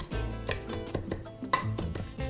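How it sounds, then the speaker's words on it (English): A knife chopping a tightly rolled ball of fresh parsley on a cutting board, a quick series of close, evenly spaced knocks for Greek salad. "when you're chopping your parsley, roll it in a nice tight ball, and then chop it"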